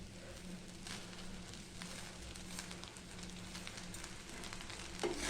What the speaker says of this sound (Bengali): কড়াই নাড়াচাড়া করব